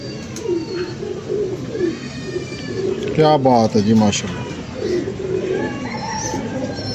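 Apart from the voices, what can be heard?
pigeons cooing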